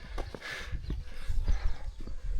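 Horses clip-clop along a countryside route, their hooves landing in irregular, dull thuds at a close distance, with some rustling in between.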